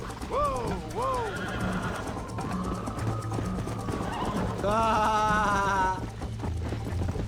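Horse whinnies twice early on, then again in a rising series near the end, over steady clip-clopping hooves and mechanical ratcheting in a Red Dead Redemption game scene, with a brief shout from a player.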